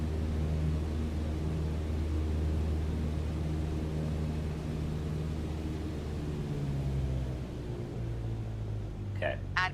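Airplane engine in Flight Simulator held at taxi power, a steady droning rumble and hiss that tapers slightly near the end, followed by a couple of brief clicks.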